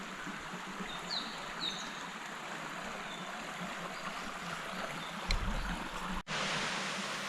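Water stream flowing near a set of waterfalls past Erskine Falls near Lorne, a steady soft rushing wash with a few faint bird calls and a brief bump of handling noise near the end.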